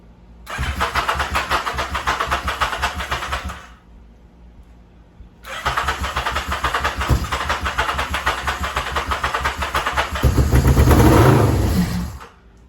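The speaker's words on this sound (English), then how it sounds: "Wants to start though. It's firing with that one." A muscle motorcycle engine cranks and fires in two long bursts separated by a pause, catching rough and loud near the end as it tries to start; close and alone, with no talk.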